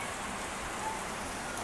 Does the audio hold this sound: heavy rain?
yes